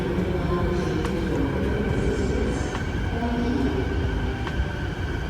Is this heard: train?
yes